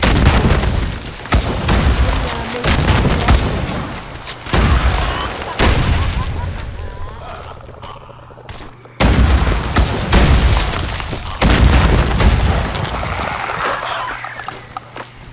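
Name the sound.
gunfire in Fallout 4 video game battle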